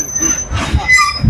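A crowded passenger train rolls past on a North Bengal line, its wheels giving off brief high metallic squeals over a steady rumble of the cars. The sound is near and fairly loud, with no clear talk.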